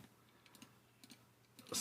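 Buttons on the keypad of a Juntek JDS2900 signal generator are pressed in a quick, faint series of soft clicks, close by in a quiet room.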